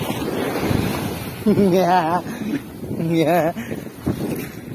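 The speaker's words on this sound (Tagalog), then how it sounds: "Sumasalpok yung mga alon, ayan o." Ocean waves surge and crash against an island shore amid gusty wind noise, with people talking loudly over the rushing surf.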